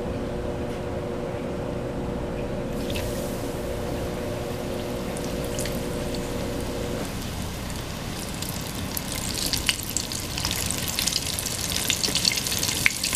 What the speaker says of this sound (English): so we're gonna start frying